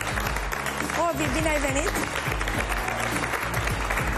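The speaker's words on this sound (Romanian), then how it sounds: "Vă rog să-l aplaudați pe Ovi." A studio audience applauds steadily as a television show host welcomes the guest Ovi, the clapping continuing under a presenter's voice throughout.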